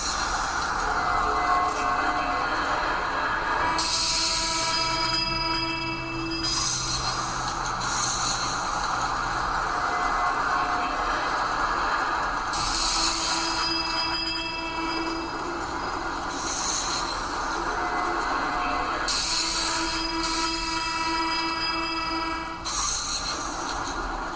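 A high-capacity train in the video game Cities in Motion rolls steadily through a station, with a continuous rumble and periodic brighter screeches and tonal squeals from the wheels, loud and alone without talk.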